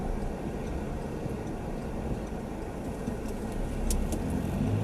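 Car driving up a mountain road, a steady, close interior engine and road rumble holding evenly throughout, with no voices.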